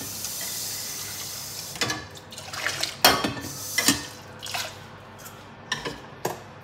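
Running water from a tap rinsing a coffee brewer in a home kitchen, with irregular splashes, drips and clinks of the vessel under the stream, fairly close and with no talking.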